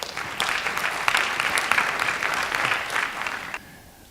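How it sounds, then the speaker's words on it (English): A crowd at a high school honor band concert claps steadily for several seconds, a dense patter of hands that cuts off abruptly near the end. "if you guys could give your parents a quick round of applause and thank them."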